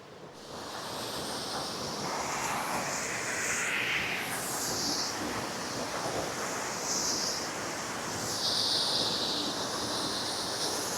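Aira Force waterfall in the Lake District roars as a steady, broadband rush of falling water, continuous and fairly near, with light wind noise and no talking.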